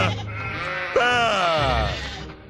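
A sheep in the Skylanders Swap Force video game lets out one loud, close, wavering bleat lasting about a second and a half over a soft background hum.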